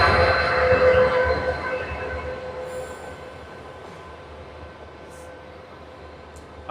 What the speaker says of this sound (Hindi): ये हमारा जो लोको है ये रिवर्सल हो रहा है, उधर से आ चुका है WDP 4D 40318 new Guwahati state का